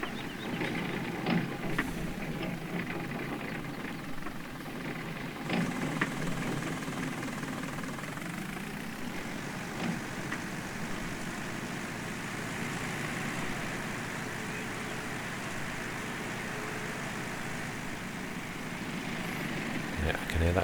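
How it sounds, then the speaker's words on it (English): A car engine drones from behind along a road, a low steady rumble that stays fairly quiet and continuous, with some knocks and handling noise in the foreground. "I can hear that car behind me."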